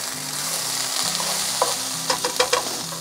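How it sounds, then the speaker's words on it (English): Ground beef sizzling in a pan at a camp cookout, a constant close hiss broken by a quick cluster of stirring clicks and scrapes near the end, no talking. "The delightful smell of sizzling cow filled up the little lady's trailer."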